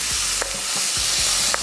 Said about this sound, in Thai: ผัดให้ไก่แค่พอหนังตึงๆนะคุณผู้ชม